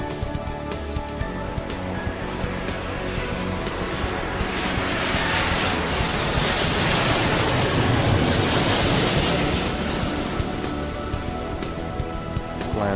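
A jet airliner roars down the runway on takeoff in the airport-management video game Airport Madness 3, a steady broadband rumble swelling to a loud peak midway and then easing off, with no talk over it.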